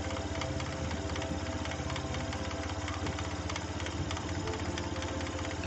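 Scooter engine started and idling after servicing, with fan belt turning; a steady, even mechanical idle hum with faint rhythmic ticking, close and constant throughout with no talk.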